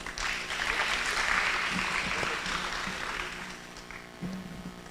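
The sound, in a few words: audience applause for graduating class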